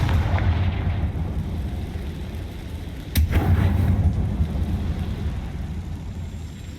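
A Confringo fire spell bursts inside a closed goblin mine in Hogwarts Legacy, one sharp blast standing out over a steady low rumble of ambience.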